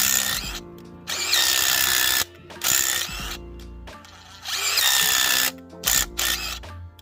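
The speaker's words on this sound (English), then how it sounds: "I'll run it in with the impact just to clean off those threads." Impact wrench running a nut onto a bolt in a driveway, firing in several loud rattling bursts of one to two seconds each, separated by short quiet gaps.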